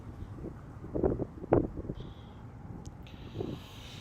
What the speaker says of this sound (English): Getting a little windy out here, getting a little colder than anticipated.